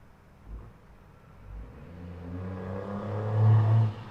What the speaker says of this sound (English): There were a lot of loud cars driving by today.